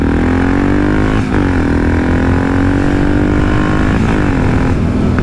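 A loud Yamaha MT-03 660 motorcycle with a carbon exhaust and no dB killer rumbles steadily up close, with a couple of brief throttle blips, its deep exhaust drone filling the whole stretch.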